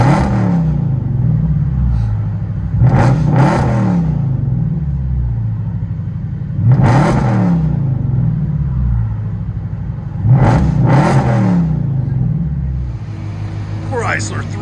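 A supercharged Chrysler 300 SRT8 with a 6.4-litre Hemi V8 and straight-pipe true dual exhaust, heard from inside the cabin, idles with a low rumble and surges in three loud revving bursts.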